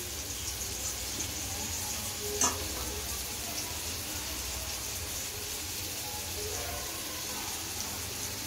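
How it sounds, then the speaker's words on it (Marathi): Fish fries in a pan with a steady, dense sizzle and hiss that hold evenly throughout, broken by one brief clink near the middle. "असे वगैरे मस्त मच्छी आपली फ्राय होते"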